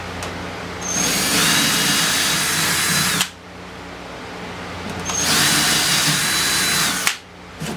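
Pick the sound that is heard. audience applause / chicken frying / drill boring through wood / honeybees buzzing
drill boring through wood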